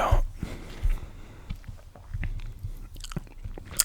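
Gum being chewed close to the microphone, with soft wet smacks and crunchy bites repeating irregularly, faint and intimate, with no talking.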